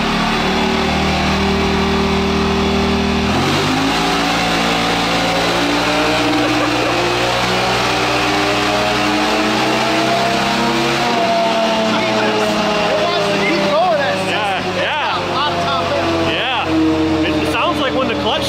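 A vehicle engine revs hard under load on a dyno, its pitch stepping through a clutch shift and then climbing steadily, loud and close throughout, with people talking over it.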